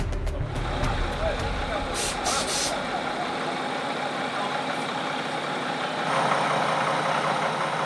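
SOUVIM IED detection vehicle running its engine: a steady, loud heavy-vehicle rumble and drone, with a few short high beeps early on and the engine note shifting slightly near the end, under a voice speaking.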